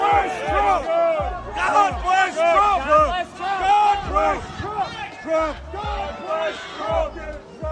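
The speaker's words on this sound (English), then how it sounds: "So they're chanting, "Let's go ICE."" Protest crowd chanting a rhythmic slogan in unison, loud repeated shouted phrases with a steady cadence, voices close and overlapping amid street noise.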